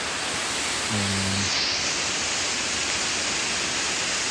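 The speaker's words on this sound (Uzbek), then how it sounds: "O'sha sharshara, mana o'sha joy." A waterfall in mountain country roars as a dense, constant rush of water close by, broadband and unbroken throughout, with only a brief faint tone in the background.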